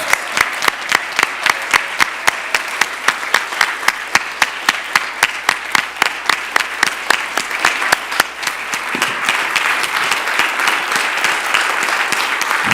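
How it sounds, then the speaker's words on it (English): Standing ovation at a celebration-of-life memorial gathering: loud, sustained applause from a crowd, with sharp rhythmic clapping first that thickens into a dense continuous roar, with no voices over it. "give Alison a round of applause for a standing ovation"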